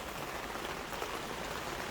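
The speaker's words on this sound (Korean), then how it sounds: "비가 많이, 빗방울 소리가 많이 나네요" Heavy rain with fat raindrops drumming steadily, a dense, even hiss at moderate-to-faint level with no voices over it.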